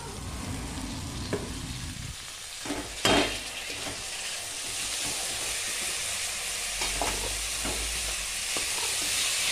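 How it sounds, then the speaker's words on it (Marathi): Moth beans stir-fry in a pan with red chilli powder and homemade chutney, a continuous close sizzle broken by a few sharp scrapes and clinks of stirring, with no talking. "मटकी टाकून छान असं परतून घेऊयात."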